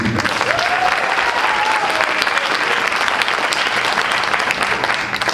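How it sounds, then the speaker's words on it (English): Dense, loud applause fills the room at a high school jazz Christmas concert as the audience claps for the lighting crew, sustained and even from start to finish with no talking. "Round of applause for them."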